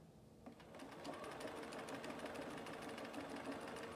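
A sewing machine runs fast and steady, a continuous rapid mechanical whirring and needle clatter that holds at an even level throughout, with no talking.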